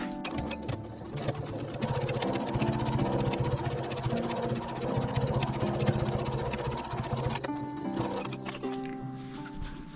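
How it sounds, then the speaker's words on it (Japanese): A sewing machine runs fast and steady along the folded edge of a fabric pouch, a continuous close whirring stitch that pauses briefly near the end before restarting. "ここ端ミシンかけます。"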